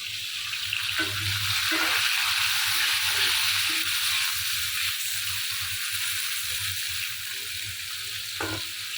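Dried kurhal fish (shutki) fries in a hot pan with a steady, close hiss and crackle, broken by a few soft knocks of a spatula stirring.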